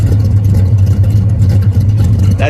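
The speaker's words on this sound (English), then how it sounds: "that's your factory exhaust sound that I have." A muscle car idles and burbles through its factory exhaust and mufflers, a loud, steady low rumble heard close up with no talk over it.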